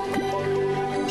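Water floods an area in Terraria with a steady wet dripping and squishing flow, close and continuous through the short moment, with layered tonal game music beneath.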